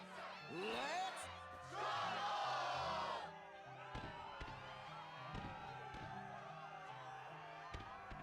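A Kingdom Hearts II arena crowd cheers and whoops in two loud swells, then settles into a quieter murmur broken by sharp thuds and slams.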